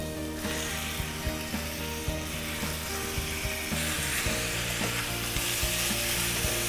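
Veal pieces sizzle steadily as they brown in a soffritto for a white veal stew with potatoes and peas, a dense, continuous frying hiss with occasional clicks and scrapes of stirring, close and fairly loud throughout.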